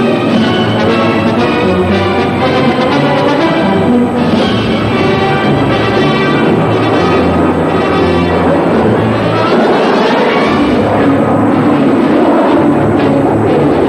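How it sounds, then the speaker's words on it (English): Red Arrows RAF jets roar loudly through a high-speed flying display, a dense, continuous broadband rush that stays strong and steady throughout with no pauses. "The Royal Air Force Red Arrows skyrocketing into their rollbacks."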